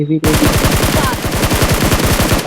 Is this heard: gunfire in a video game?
yes